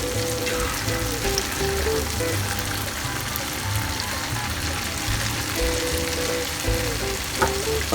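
Churros fry in hot oil with a dense, continuous sizzle and crackle close to the ear, steady throughout, with faint kitchen clinks now and then.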